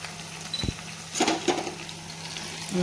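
Salt and turmeric get stirred into a tempering frying in a pan: a faint low sizzle runs underneath a few soft spoon scrapes and taps, with one dull knock near the start, all over about three seconds.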